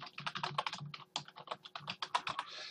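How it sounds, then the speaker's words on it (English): Rapid, irregular clicking of keys on a computer keyboard as someone types a short phrase, close and alone. "So I'm going to type in here,"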